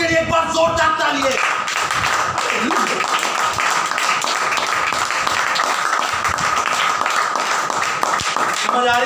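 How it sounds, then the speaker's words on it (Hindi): A church congregation claps loudly and continuously during a Hindi-language sermon, a dense patter of hand claps with a voice and some tonal sound heard briefly at the start. "यीशु के दाऊद के लिए एक बार जोरदार तालियां।"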